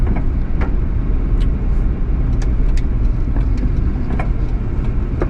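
Mitsubishi Townbox kei van accelerating up a hill, a loud steady engine drone with road rumble heard from inside the cab, no talking.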